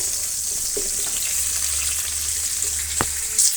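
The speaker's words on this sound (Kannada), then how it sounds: "ಹಾಗಲಕಾಯಿನ ನೀಟಾಗಿ ಫ್ರೈ ಮಾಡ್ಕೊಳ್ಳೋಣ. ಎಣ್ಣೆಯಲ್ಲಿ ಚೆನ್ನಾಗಿ ಫ್ರೈ ಮಾಡ್ಕೋಬೇಕಾಗತ್ತೆ." Bitter gourd frying in oil for a Brahmin-style ennegai sambar rice: a steady, even hiss of sizzling oil throughout, with a couple of faint clicks and no voices.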